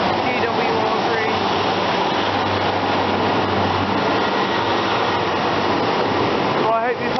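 A GWR train pulls out of a Devon station on a service to Paignton, with a loud, continuous close rumble and broad hiss and a low droning tone that fades near the end.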